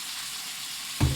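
Onions drop into hot oil and a sudden loud sizzle bursts up right at the end, after a second of soft background hiss.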